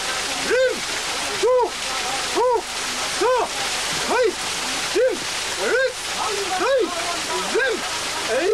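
A waterfall pounds down during Japanese waterfall ascetic training, a steady broadband roar heard up close. A voice rises and falls over it in a regular repeating pattern.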